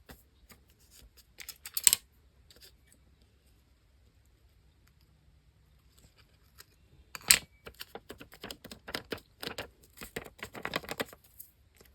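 Scissors trim a protruding paper edge on an art journal page: one crisp snip early, then a quick run of close, sharp cuts after a long quiet stretch, with no voices.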